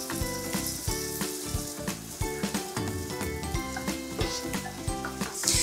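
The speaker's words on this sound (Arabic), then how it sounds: "وهي الزيت بصل. رح نقليه لغاية ما يدبل" Onions frying in oil in a pot for Palestinian qidra rice, a steady close sizzle with repeated scraping and clinking of a spoon stirring against the metal pan.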